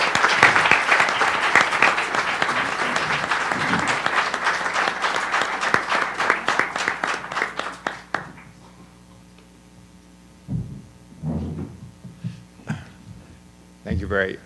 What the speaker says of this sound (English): And please give Professor Scholes an applause.